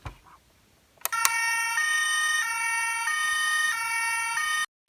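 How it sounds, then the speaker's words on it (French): A Playmobil toy police car siren wails steadily, alternating between two electronic pitches for several seconds after a couple of sharp clicks, loud and close with no talking. "lorsque l'on allume un bouton, une sirène d'alarme de police retentit"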